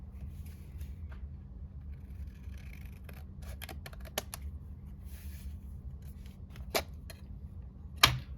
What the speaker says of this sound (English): I need to trim the top. So let's get to trimming.